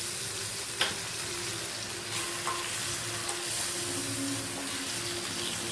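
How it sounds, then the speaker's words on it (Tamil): Chicken frying in a pan for butter chicken, a continuous even sizzle with occasional stirring clinks and scrapes, close and fairly quiet, with no talking. "இனிமேல் அந்த சிக்கனையும் நம்ம வறுத்து எடுத்துருவோம் மொத்தத்தையும்."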